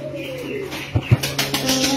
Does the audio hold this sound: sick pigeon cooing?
yes